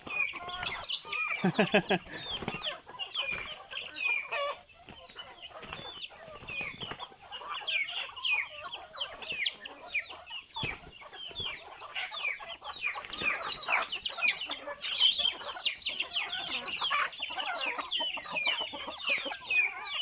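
A flock of backyard chickens clucks and squabbles while pecking at scattered corn, a busy stream of soft clucks and sharp chirps at close range, with occasional quiet voices and a steady high hiss.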